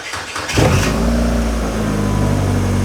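A Mazda MX-5 NB-based RX-5 project car with an automatic gearbox starts up: a short starter crank, then the engine catches and revs, settling into a loud, steady running drone close by.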